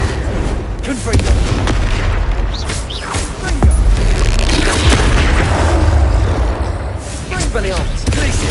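Confringo fire-blast spell from the Hogwarts Legacy video game, heard as a series of loud booming blasts amid dense rumbling combat effects, with a voice shouting spell names over it.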